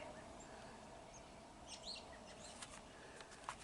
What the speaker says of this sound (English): You can definitely hear the birds, though.